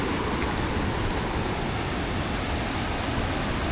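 Ocean surf rolls in at a beach in Canggu, Bali, a steady broadband wash of breaking waves heard alone, loud and continuous with no pauses.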